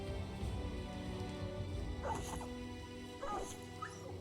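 A war dog in the Battle Brothers battle gives short whimpering yips and barks, two brief clusters of cries heard under a continuous rumble of battle noise and music.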